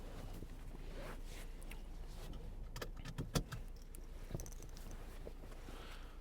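Keys for a 2016 Volvo V60 jingle and clink in short bursts near the middle, close and fairly quiet over a low steady background rumble, with no talking.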